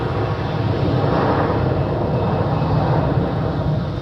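Air Canada Boeing 777-200LR in old livery at Zurich Airport, a loud, steady jet engine roar with broadband rushing noise, close and continuous with no talk.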